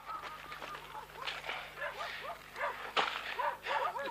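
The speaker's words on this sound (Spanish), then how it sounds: "los perros que están ladrando desde cercanías de la ruta" Several dogs bark repeatedly at a distance, faint yapping calls overlapping in an irregular chorus outdoors.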